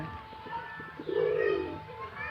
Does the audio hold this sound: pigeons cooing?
yes